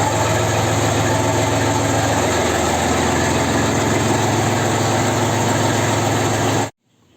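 A Kentavr 244 tractor drives a 1500 rotary tiller on its first start, a steady loud engine drone and mechanical whir holding constant before cutting off abruptly near the end.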